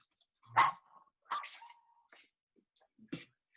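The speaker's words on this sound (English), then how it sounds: "This is my dog, Max." A pet dog gives a few short barks and yips at close range, spaced irregularly with quiet gaps between them and no talk over them.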